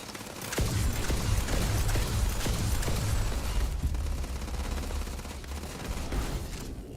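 Sustained firefight in Starfield: dense, continuous gunfire with overlapping bursts and heavy low rumble, loud and steady throughout, with scattered sharp shot transients and no talk.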